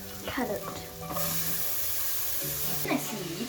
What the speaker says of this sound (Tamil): வெங்காயத்தை போட்டு தாளிக்க போறேன்.